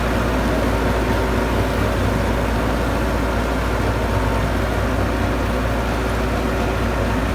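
A new 85 tractor's engine runs in third gear during wheat sowing. It makes a loud, continuous, unchanging rumble close by for the whole stretch.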